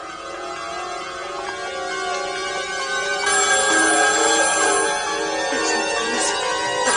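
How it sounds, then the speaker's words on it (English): A telephone rings with a sustained, buzzy electronic trill that runs continuously and grows slightly louder partway through, alone and fairly close. "The phone. Let it ring."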